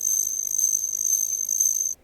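Steady, high-pitched chirping of crickets runs as a continuous pulsing trill, fairly loud and alone, then cuts off abruptly near the end.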